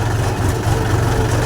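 A tractor engine running on a narrow farm road gives a loud, steady low-pitched idling rumble that continues without a break through the short stretch.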